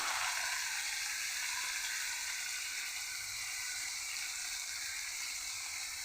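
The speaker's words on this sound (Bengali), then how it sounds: "মশলাটাকে আমি ভালো করে কষিয়ে দেবো" Spices with turmeric and bay leaves sizzle steadily in hot oil in a pan while a kacchur loti and prawn curry is being cooked, with a continuous, even frying hiss and no talking.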